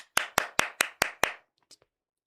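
Hands clap quickly in imitation of a seal during a political discussion: six sharp, evenly spaced claps close to the microphone, followed by a couple of faint taps and then quiet.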